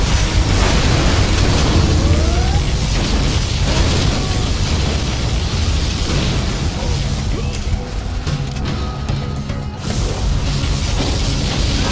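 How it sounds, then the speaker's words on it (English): A loud, sustained roar of explosive blasts and rumbling booms from a particle cannon in Command & Conquer Generals Zero Hour, dense and continuous with crackling bursts. "Particle cannon activated."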